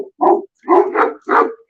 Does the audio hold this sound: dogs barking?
yes